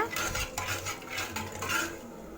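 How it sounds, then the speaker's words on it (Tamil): Cooked dal mashed with a metal ladle in a pot for hotel-style sambar, a few close, rhythmic clinks and scrapes of metal on metal. "பருப்பு மற்ற வச்சோ இல்லைன்னா இந்த கரண்டி வச்சோ இந்த மாதிரி கொஞ்சம் நல்லா கடைஞ்சி விடுங்க"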